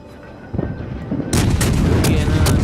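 Naval guns of the warship Caledon fire in a video game, a low rumble building into heavy booming blasts, with sharp repeated reports crowding the later half at close range.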